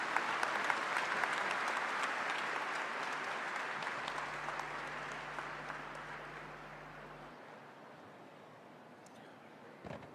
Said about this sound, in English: one good applause for our Madam